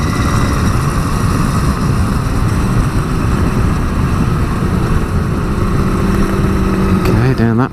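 A Kawasaki 350 Four two-stroke motorcycle, Allen Millyard's build, drones loud and close at a constant pitch, then a quick rev swells near the end.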